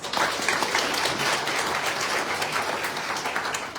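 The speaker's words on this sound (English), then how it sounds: "Please give them a round of applause." A crowd at a Miss Pacific Islands beauty pageant applauds steadily, dense clapping filling the whole few seconds at a strong, even level with no talking over it.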